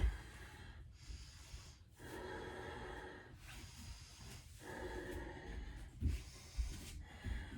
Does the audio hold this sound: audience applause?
no